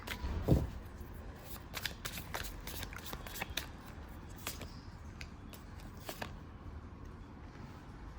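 Tarot cards are shuffled and drawn during a reading, a soft rustle with a series of quick crisp flicks and snaps of card edges, close but quiet, with no talk.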